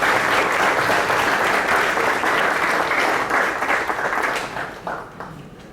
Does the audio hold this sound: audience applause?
yes